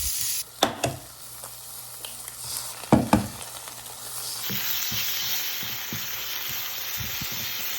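Spinach wilting in a hot pan with onions gives a steady, close sizzle that rises after a couple of soft thumps and clatters, then holds as a continuous hiss.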